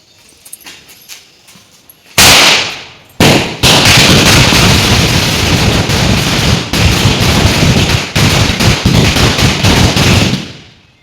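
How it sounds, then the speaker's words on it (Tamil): A rapid string of Diwali firecrackers bursting, loud dense crackling that stops briefly, then resumes for several seconds before cutting off, preceded by a few scattered pops. "பட்டாசு வெடிக்கிறது பார்ப்பாங்கன்னு வைங்க."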